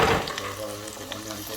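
Chopped onion frying in a pot for a Jamaican-style pork pot roast, a loud, steady close-up sizzle with a brief stir at the start, no voices.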